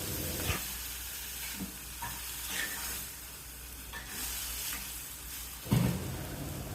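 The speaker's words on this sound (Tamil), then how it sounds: "அரைச்சி வச்ச தேங்காய் மசாலா எல்லாம் சேர்த்துக்கலாம்." Ground coconut masala frying with snake gourd in a pan over medium flame, a continuous close sizzle broken by a few louder stirring scrapes, with no talk.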